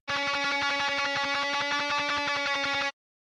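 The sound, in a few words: black metal lead guitar track played back in a mix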